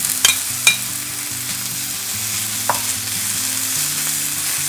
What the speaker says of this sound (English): Continue to saute them.